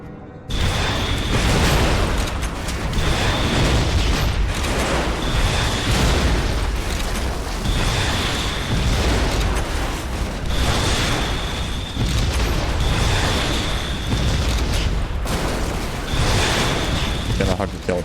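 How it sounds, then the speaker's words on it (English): Repeated explosions and bursts from the video game Red Faction: Guerrilla on PS3, loud and continuous, blending into a dense roar of chaotic blasts across the whole stretch with steady tonal game sounds layered on top. "Kinda hard to tell what the hell's going on with all the explosion."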